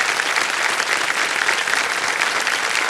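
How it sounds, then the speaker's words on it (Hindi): Steady applause from the studio audience of the TV quiz show Kaun Banega Crorepati, dense clapping sustained at an even level throughout. "तालियां बज जाए इनके लिए।"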